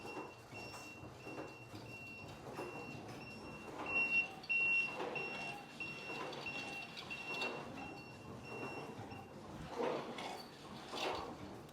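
A packing machine's buzzer signals low material with a thin, continuous electronic tone that holds steady behind a low, rumbling mechanical hum, all fairly quiet.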